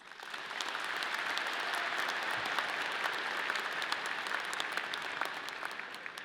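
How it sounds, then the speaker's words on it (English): A graduation audience at a Colorado State University College of Business ceremony applauds faculty and staff, a steady sustained wash of many hands clapping at moderate distance, holding evenly throughout with no talk over it. "Let's give them a round of applause."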